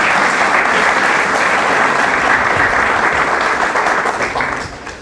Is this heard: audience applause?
yes